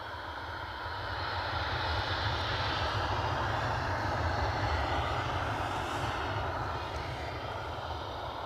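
Steady, loud roar of a British Airways jet airliner's engines at Edinburgh Airport, sustained throughout with a broad rumble and slight swell in the middle, no talking.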